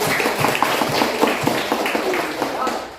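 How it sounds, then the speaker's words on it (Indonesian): A classroom crowd of students and teachers claps hands in a steady, dense burst of applause that fades toward the end, with voices mixed in underneath. "Tepuk tangan dulu dong."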